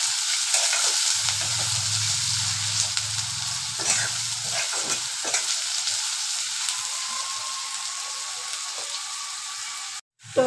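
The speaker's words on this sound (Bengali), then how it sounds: "তো হয়ে গেছে আমার পেঁয়াজটা ভাজা।" Onions fry steadily in a pan with a continuous soft sizzle, accompanied by a brief low rumble and occasional stirring scrapes, with no talking.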